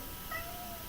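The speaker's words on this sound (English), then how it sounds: "My cat. She's decided she wants to go out." A house cat meows once, faint and brief, wanting to be let outside in a quiet room.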